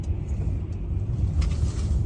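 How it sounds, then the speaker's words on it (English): A truck rolls past on a road during a drive in changing weather, heard as a continuous low rumble of road and engine noise from inside a moving car. "And there's another truck."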